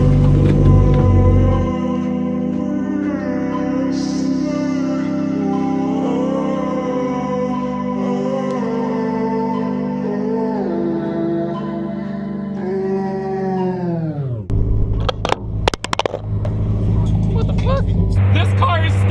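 Engine and road noise from a lifted Mazda Miata rally car with long-travel coilovers on the highway, a loud continuous drone with rising tones that drops sharply near the end, followed by rattles and bumps.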